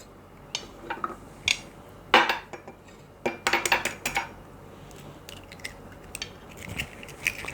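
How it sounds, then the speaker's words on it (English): Eggs being cracked and added to three cups of sugar in a mixing bowl for a pound cake, giving scattered sharp clinks and taps against the bowl with quiet pauses between, no talking. "So I'm going to start adding my eggs in here."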